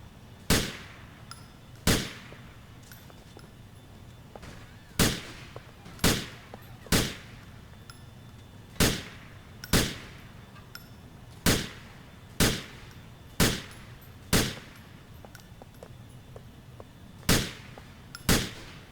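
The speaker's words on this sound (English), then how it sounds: "Empty your clip out into the left target." Single gunshots at targets during police training in GTA IV, about a dozen evenly spaced cracks over nearly twenty seconds. Each shot is sharp and moderately loud against a quiet background, with no talking.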